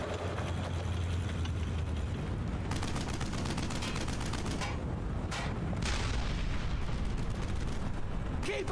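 Sustained gunfire from the World War II shooter Brothers in Arms: Hell's Highway: a dense, loud, continuous roar of shots and blasts, with rapid bursts that crackle through the middle of the clip.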